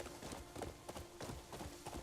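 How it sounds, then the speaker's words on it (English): Horse hooves clip-clopping at a steady run in the video game Crimson Desert, a rhythmic repeating gallop of several beats per second over a constant ambient game bed with a low steady hum. "Crimson Desert horse riding"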